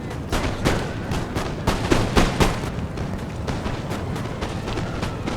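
An infantry square of the Polish Legion fires muskets in Napoleon Total War, a ragged run of sharp, cracking shots, some overlapping into rolling volleys, loud and close against a battlefield rumble.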